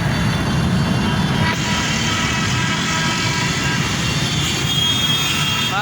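A Lahore Orange Line metro train passes overhead in a loud, steady rumble with a broad roar, mixed with busy street traffic noise, continuous throughout with no clear start or end.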